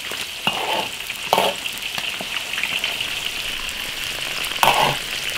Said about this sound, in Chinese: 把肉炸一下，把这个肉里面的油脂给它炸出来